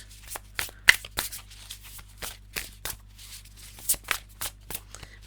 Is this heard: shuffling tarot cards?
yes